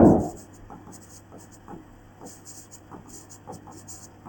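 Chalk or marker writing on a classroom board during a Hindi maths lesson on divisibility rules, a steady series of short scratchy strokes and taps at moderate distance after an opening thump, with no talk.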